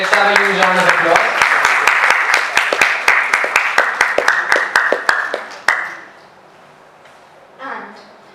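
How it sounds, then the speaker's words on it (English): Crowd at a Founder's Day celebration gives a round of applause, loud sustained clapping with distinct sharp claps that fades out around six seconds; a voice talks briefly over the start and again near the end. "Let's have a huge round of applause."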